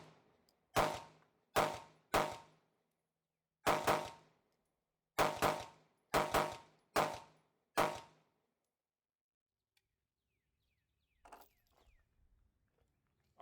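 An HK CC9 pistol fires a magazine: ten loud, close, sharp gunshots in irregular spacing, some in quick doubles, followed by silence and faint handling noises.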